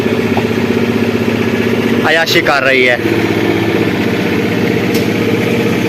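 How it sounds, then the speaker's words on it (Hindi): A generator runs steadily in a busy market, its constant mid-pitched engine drone close and loud throughout, with a person speaking briefly over it. "आगे जो जनरेटर चल रहा है ना जहाँ पे"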